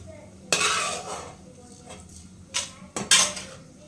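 Sharp metallic clinks and scrapes of a spoon against a pan ring out in a few separate bursts while spices are dry-roasted for homemade puliyogare gojju, with quiet gaps between the strokes.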